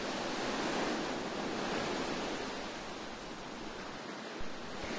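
Steady wash of Black Sea waves and surf at Odesa, a continuous broad roar with gentle swells and no voices.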